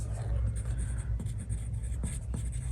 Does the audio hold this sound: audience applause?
no